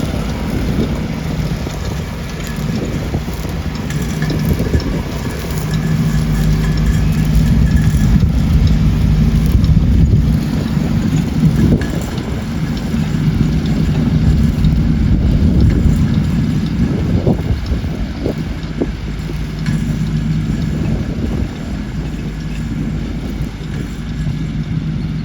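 A tractor with a side-mounted strimmer works steadily in an English vineyard in April, a constant low engine drone with gusty wind noise throughout and no talking.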